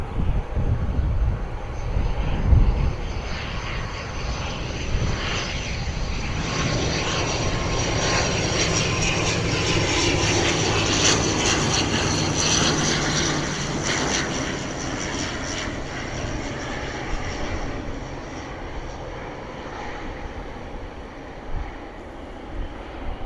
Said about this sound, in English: ATR 72600 coming in from Jersey, breaking through the cloud.